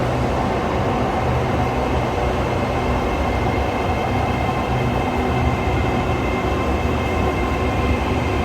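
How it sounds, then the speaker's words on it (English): A Bangkok metro train pulls into the station platform with a steady, loud, continuous rumble and rolling roar that fills the space, with no talking. "Our train is coming in, ready to take our foldable bike in."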